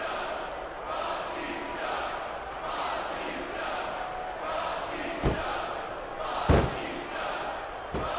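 Capacity arena crowd roaring throughout a WWE Backlash 2005 wrestling match, Batista versus Triple H with Ric Flair, a steady dense cheer with two sharp thuds from the ring near the end.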